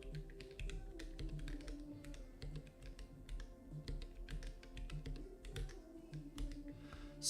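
Brisk keystrokes on a 3D-printed ortholinear keyboard sound as close, clicky taps in quick irregular bursts over a faint low hum.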